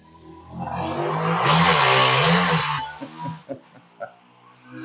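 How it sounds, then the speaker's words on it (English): A small motorbike's high-revving engine whines past outside, swelling loud then fading, followed by a few short scattered knocks and bumps. "I've got a stupid motorbike here. Hang on. Can you hear it? That's a little motorbike."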